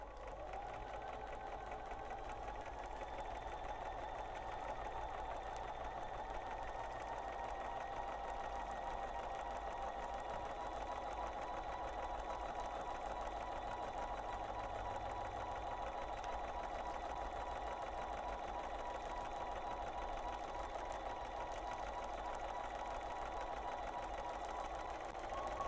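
A sewing machine runs continuously, stitching a Wedding Star quilted table topper along straight and curved lines: a steady, even whir with no pauses.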